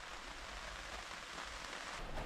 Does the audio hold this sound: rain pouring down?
yes